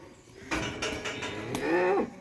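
Cows moo loudly and close by at a farm, separated from their calves; a couple of drawn-out bellows over faint background noise, without talk.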